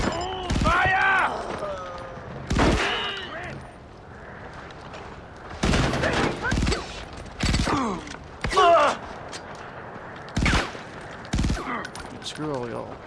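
Gunfire from the video game Far Cry 4 comes in loud, repeated bursts separated by short pauses, with mechanical clanks and voices in between.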